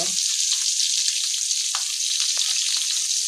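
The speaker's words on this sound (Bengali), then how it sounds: "ডিমগুলা ভেজে নিব।" Eggs fry in hot oil in a pan for a Bengali egg curry, giving a loud, steady sizzle with scattered spitting pops, close by and without talk.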